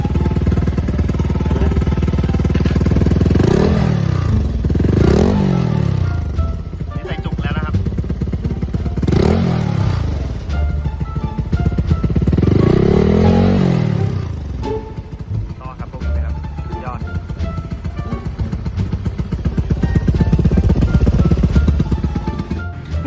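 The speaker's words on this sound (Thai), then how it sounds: "เดี๋ยวเรามาฟังเสียงท่อนะครับของอาคาโปวิกนะครับ" A 2019 Honda Click 150i scooter with an aftermarket Akrapovic exhaust idles with a deep, close rumble, then revs sharply several times, each blip rising and falling back.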